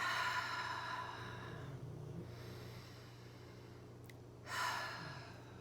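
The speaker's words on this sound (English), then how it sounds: "there's the snoring of the dog to help you" A dog snores softly nearby in a quiet room, a few slow, raspy breaths with a short pause between them, and one louder snort-like inhale near the end.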